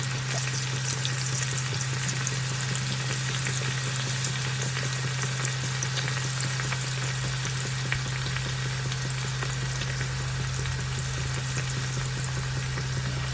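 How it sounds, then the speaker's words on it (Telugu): Chicken pieces for chicken pickle frying in a pan over a medium flame, a steady loud sizzle of hot oil running unbroken throughout with no talking. "అన్ని ముక్కలను కూడా వేయించుకోవాలి."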